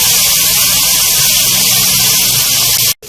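Onion, garlic and ginger frying in a pan, a steady broad sizzle, close and even throughout, cut off abruptly at the end.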